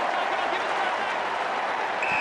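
A football crowd at a 2012 AFL match between Fremantle and Port Adelaide fills the stadium with broad, steady applause and cheering, heard as a continuous wash of noise under a commentator's voice.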